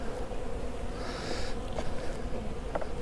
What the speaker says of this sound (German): aber es ist voll mit Bienen